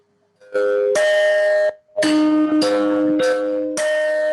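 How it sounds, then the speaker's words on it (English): Deagan chimes strike the NBC radio signature tones: several clear ringing bell notes in sequence, loud and sustained, each tone decaying before the next, with no voices. "let's see if we can hear what those chimes sound like"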